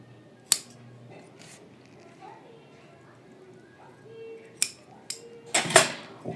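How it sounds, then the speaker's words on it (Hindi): Scissors snipping thread during rewinding of a Cinni table fan, a few sharp metallic clicks and snips, scattered and close, with someone talking quietly between them. "इसको धागे को काट लेता हूँ"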